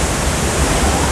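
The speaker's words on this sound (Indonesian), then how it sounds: "Suara airnya tuh begitu kenceng," Roaring waterfall at Curug Dago, a loud, continuous broadband rush of falling water heard close up and steady throughout, with no voices over it.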